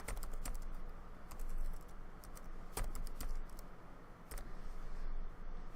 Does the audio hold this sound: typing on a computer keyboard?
yes